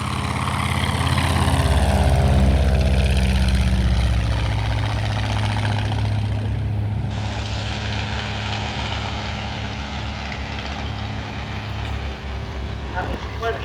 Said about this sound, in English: here's the Black Baron taking to the skies in his red and black Fokker DR-1 triplane